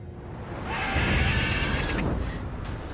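A horse in The Witcher 3 video game gives a neigh, a single drawn-out whinny rising over a steady game soundscape and holding for about a second before fading under the ambience.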